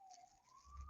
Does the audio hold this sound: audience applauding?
no